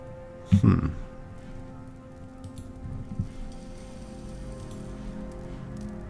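Steady rain-like ambience from the video game Pillars of Eternity, a soft continuous patter with a low hum beneath and a brief louder burst near the start.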